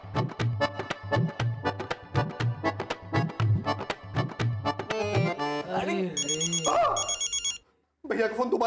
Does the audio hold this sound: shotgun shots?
no